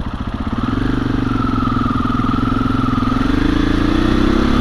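A 2021 KTM 500 EXC-F dirt bike, uncorked, runs on the road with a loud close engine drone, its pitch climbing steadily as it accelerates through a gear.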